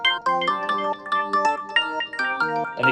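A Korg M1 Tech Code Organ preset plays a short, bright riff of staccato chords in a house pattern, each stab clean and distinct, with no other instruments or voices.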